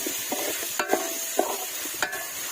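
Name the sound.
stirring chicken and tomato in pan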